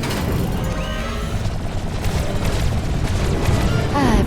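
A vessel being destroyed in Star Wars: The Old Republic: a sustained low rumbling boom with mechanical crashing, fairly loud and continuous. Faint tonal game sounds sit over it.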